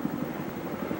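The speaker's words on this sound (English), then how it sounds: "touring helicopters" Touring helicopters fly over Kauai's countryside, giving a steady, distant rotor drone with a soft rhythmic chop and no other noticeable sound.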